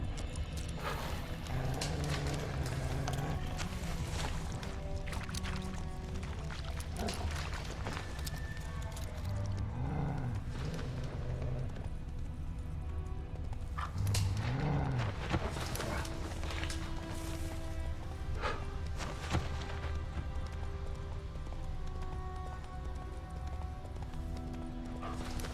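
Hooves of the horse Roach in The Witcher 3 clip-clop in a steady galloping rhythm, close and continuous, with occasional snorts and whinnies over a layer of ambient game music.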